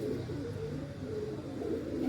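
Pigeons coo in a low, continuous warble that swells and fades without a break, moderately close, with no voices.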